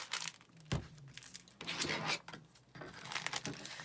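Dull scissors cut through a bundle of two 2.5-inch wired ribbons for an Army wreath, making rough tearing and crinkling sounds in several close bursts, with rustling of the ribbon between cuts.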